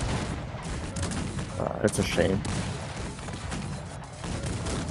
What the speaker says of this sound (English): some of the cannons behind the lines are captured as well, and they're just shrapneling each other